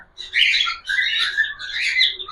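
A cockatiel gives three harsh, rasping calls in quick succession, loud and close, each a scratchy squawk lasting about half a second, with no other sounds around them.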